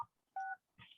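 Telephone keypad DTMF tones sound as star six is pressed, two short clean beeps with a gap between them, faint and clear with no talking.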